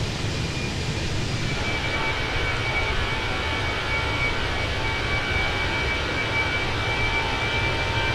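Airbus A320 CFM jet engines in Microsoft Flight Simulator 2020 on an Austrian flight from Vienna to Athens, a continuous steady cabin-level drone with a faint high whine, unchanging throughout.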